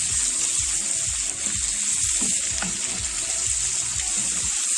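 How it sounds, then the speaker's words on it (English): Prawns frying in butter over high heat give a steady, close broadband sizzle with a bright hiss on top, while faint low rhythmic knocks of pan handling come and go throughout; no voices. "You leave it on high heat and you keep flipping those prawns, turn them around, get them in that butter."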